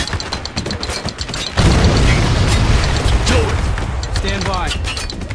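Heavy booming blasts and mechanical rattling in the war video game Spec Ops: The Line as a mortar fires, loud and close with a sustained rumbling roar after the first second, under game voices.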